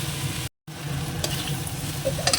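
Ingredients, shrimp among them, frying in a pan with a dense, steady sizzle that cuts out for a brief moment and then resumes, plus a few faint stirring clicks, close and fairly loud, no voices.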